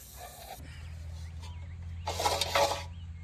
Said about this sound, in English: Let's spray some penetrating fluid in there, see if we can loosen this up